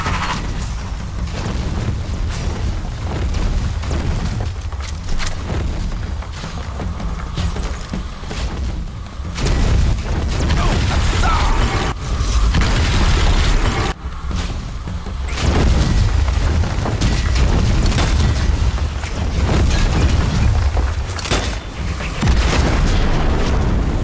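Blunderbuss shots and explosions from the video game Strange Brigade make a dense, loud, continuous barrage of booms and blasts rolling on without pause, with no voices.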